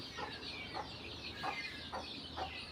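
Native country chickens and chicks on a Tamil backyard farm cluck in short, evenly spaced calls, about five in a row, over a steady rushing background noise.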